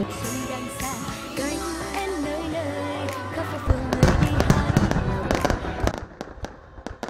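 Outdoor fireworks for Lunar New Year crackle and bang in dense, rapid bursts that grow louder partway through, with people talking under the din at the start.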